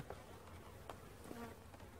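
Honey bees in a hive fitted with a sugar feeder, a faint continuous buzz with a few brief louder passes of single bees, no speech.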